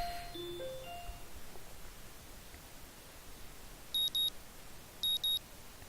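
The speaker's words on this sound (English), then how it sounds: "The sound of an alarm pulls me out of a fitful slumber and into the unpleasant state of wakefulness." An alarm clock in the visual novel game Katawa Shoujo beeps in two quick double bursts of sharp electronic tones, heard alone over a faint background after a few soft chime notes.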